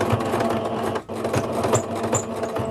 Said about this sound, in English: Not my best machine sewing